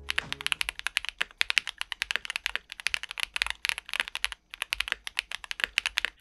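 Quick bursts of muted, deeper-sounding keystrokes on a QK75 mechanical keyboard fitted with a PE sheet and all foams, close up, with a couple of short pauses and no speech.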